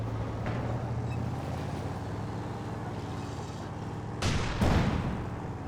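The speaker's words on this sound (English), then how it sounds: "Bit of fire there onto the sandbags" Gunfire strikes sandbags in the strategy game Company of Heroes 2, heard as a steady rumbling battle din with two sharper, louder bursts of fire near the end.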